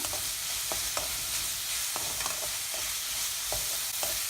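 Green chillies and okra sizzle steadily in a hot pan while a spoon scrapes through them in regular stirring strokes, close and loud.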